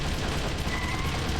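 Gunfire from the video game Metal Gear Solid: The Twin Snakes comes as a brief, dense burst of rapid shots, loud and close, blurring into a continuous rattle.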